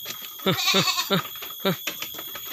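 Several farm goats bleat in short, wavering bursts close by as they are let out to graze, one after another with brief gaps, over a faint steady background hum.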